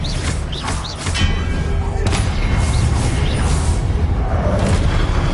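Confringo fire-blast spells going off in the Hogwarts Legacy video game, a booming thud followed by crashing rumble and debris over a steady loud background, with a brief shouted incantation.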